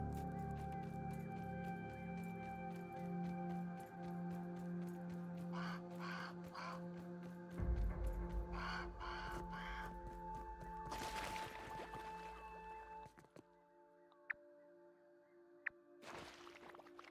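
Creature chirping in the video game Grounded, harsh caw-like calls recurring over a dense droning game soundscape with music and effects, moderately loud, no talking.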